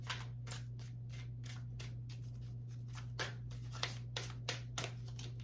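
Tarot cards being handled and drawn from the deck, a quick run of papery swishes and slides followed by a few crisp snaps, close and soft over a low steady electrical hum, no one speaking.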